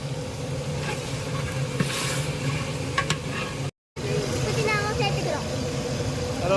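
Tomatoes dropped into a pan of sautéed onions for sambar rice, giving a steady sizzle and stirring scrape that runs continuously, broken by a brief cut partway through.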